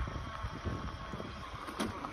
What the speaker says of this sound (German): Naja, wenigstens geht der Wind.